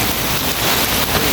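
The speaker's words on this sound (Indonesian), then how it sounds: "Hujannya mulai lebat." Heavy rain pouring down outdoors beside an irrigation canal, a loud, dense, steady hiss of water with no talk over it.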